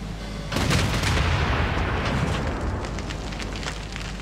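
Cannon fire in Civilization VI: a heavy booming blast erupts after a brief quiet, followed by a long rumbling roar with crackling debris that slowly fades.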